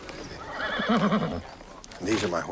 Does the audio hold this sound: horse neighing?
yes